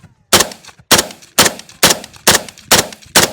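An AK rifle fires seven loud, evenly spaced shots in rapid succession, each a sharp crack with a brief ringing tail, close by and with no talk over them.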